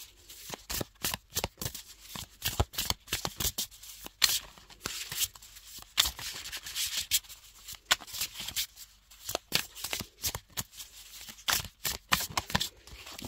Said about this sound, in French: Je les remue bien, je les mélange bien parce que vu que là, elles étaient dans l'ordre.